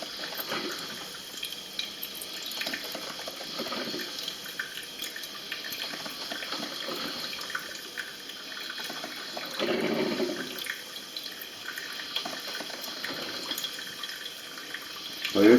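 Water trickles and gurgles steadily through a freshly descaled electric coffee maker, a soft continuous flow heard up close with brief surges.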